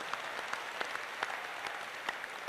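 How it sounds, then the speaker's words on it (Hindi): A small audience claps in thanks for Ganga Pande, with scattered, fairly faint handclaps at a loose uneven rhythm over a quiet hall background. "एक बार गंगा पांडे को भी ताली बजा करके धन्यवाद दो।"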